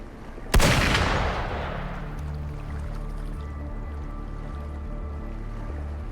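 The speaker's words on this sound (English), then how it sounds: "Gunfire!" A single sharp gunshot cracks out early, followed by a long decaying rumble and a low droning background, like game audio.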